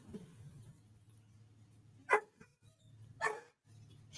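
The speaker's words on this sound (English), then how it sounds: "Oh, that's one loud dog right there" A large dog barks loudly outdoors, two sharp separate barks about a second apart standing out over a low steady background hum.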